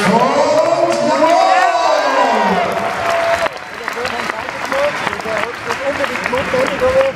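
Indoor trial motorcycle event crowd bursting into applause and cheering, loud and dense with a rising whistle and whoops at first, continuing as clapping while an announcer talks over it.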